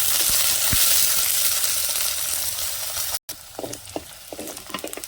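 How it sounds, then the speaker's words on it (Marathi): Small cauliflower pieces fry in oil over a village wood-fired stove for kurma, giving a loud steady sizzle with a brief break, then softer crackles and occasional stirring taps. "फ्लावर बघा अगदी छोटे छोटे तुकडे केले तेलावर आहे ना परतून घ्यायचं"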